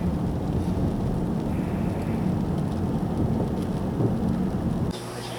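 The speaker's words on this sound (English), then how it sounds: "it just happens to be raining" Steady rain falls outdoors, a dense continuous hiss close to the microphone, with faint low rumbles like distant thunder underneath; the wash drops in level just before the end.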